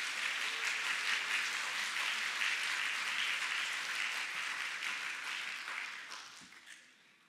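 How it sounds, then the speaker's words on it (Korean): A church congregation applauding together, a dense wash of clapping from many hands that holds steady and then fades away near the end. "우리 축복의 박수로 맞이해 주시면 감사하겠습니다."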